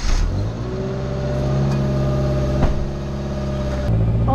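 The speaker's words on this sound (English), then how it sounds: "about the exhaust being crushed and it making a lot of noise" Car engine idling with a crushed exhaust, a loud, steady rumbling drone with some uneven throbbing, close by and without voices.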